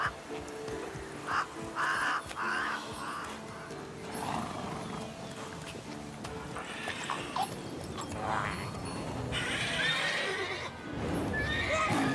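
A horse in The Witcher 3 video game neighs and snorts, with clip-clopping hooves and soft outdoor game ambience throughout, at a moderate, fairly close level.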